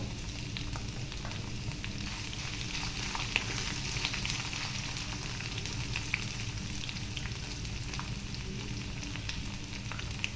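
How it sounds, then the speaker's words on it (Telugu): Coarsely crushed small onions frying in a pan with ginger for buttermilk soup, a dense continuous sizzle with faint crackles and light stirring, close and steady, no voices. "కచ్చా పచ్చాగా దంచుకున్న చిన్నుల్లిపాయలు వేస్తున్నాను"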